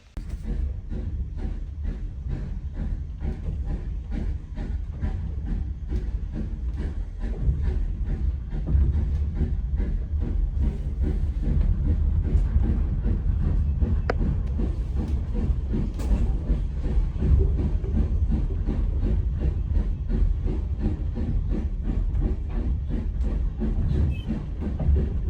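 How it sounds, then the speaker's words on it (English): A steam train in Norfolk runs steadily, with continuous rhythmic clatter and chuffing at moderate volume and no talk over it. "It's a steam train."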